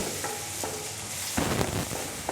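Ingredients for drumstick curry sauté in a pan, with a continuous sizzle and a couple of scraping stirs close by.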